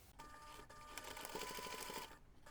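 Sewing machine stitching seams on a fabric reindeer pencil pouch with a 5 mm seam allowance, a steady, quiet, rapid mechanical whir lasting about two seconds, then stopping, with no talk.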